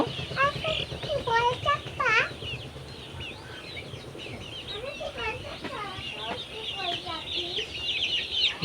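Village chickens cluck and squawk in bursts as they are lifted into a basket, close and fairly loud, with a brief flutter of wings and people talking over them.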